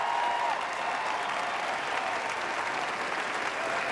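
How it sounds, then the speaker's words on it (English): Sustained applause from a benefit concert audience for Hurricane Igor relief, a dense steady clapping that fills the whole stretch without letting up, loud and close, with no talking over it. "So big round of applause for Seamus O'Regan."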